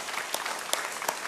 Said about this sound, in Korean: 우리 어린 자녀들을 위해서, 학생들을 위해서 한번 힘차게 박수 한번 치겠습니다